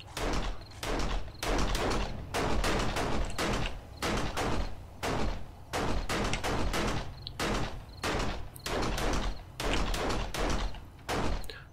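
Gunfire in the video game 7 Days to Die comes as repeated loud bursts of rapid shots, each lasting about half a second, with short gaps between them over the whole stretch.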